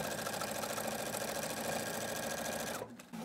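A sewing machine stitches binding onto a quilt in a fast, steady, close whirring run, stopping abruptly near the end.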